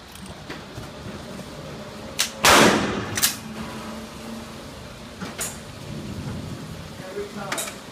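A Glock G21 .45 pistol is fired at a target 55 feet away, one loud sharp bang followed by a few fainter clicks and knocks, all over a low background hum.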